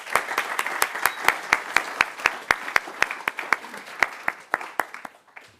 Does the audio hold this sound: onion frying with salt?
no